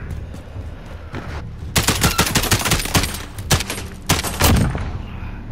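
Rapid gunfire in a one-versus-one round of a first-person shooter video game, with dense bursts of sharp close shots after a quieter start, loud and clustered with brief gaps between volleys.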